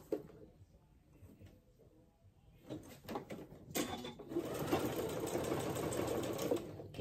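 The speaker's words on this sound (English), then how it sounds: "I'm just going to sew mine a couple times. I just want it to be strong." Sewing machine stitching a tunic: quiet handling noises, then short bursts of stitching that build into a steady, close mechanical whirr of needle strokes near the end.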